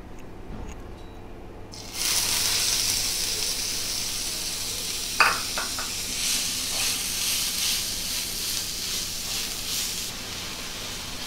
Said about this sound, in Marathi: आणि आता मी कांदा भाजून घेणार आहे।